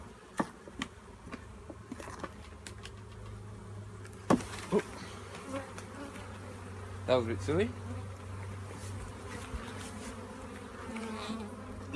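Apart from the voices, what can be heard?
bees buzzing around hive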